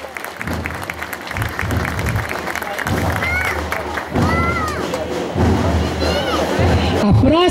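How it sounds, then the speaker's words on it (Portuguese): Crowd applause at an Independence Day school parade in Miradouro, Minas Gerais: sustained outdoor clapping with cheering and a public-address voice talking over it, swelling louder toward the end. "Uma salva de palmas"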